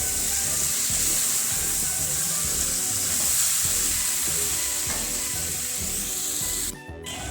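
Mixed vegetables cooking in a pan, with a loud constant sizzling hiss and low rumbling stirring, cut briefly near the end by a short clatter.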